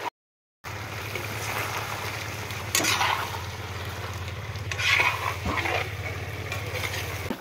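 Meat curry cooking in a large pot for a birthday party feast, with a continuous low bubbling and simmering rumble and occasional stirring scrapes, close and steady, without speech.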